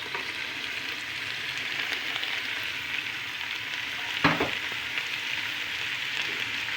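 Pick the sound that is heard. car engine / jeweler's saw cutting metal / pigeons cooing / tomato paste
tomato paste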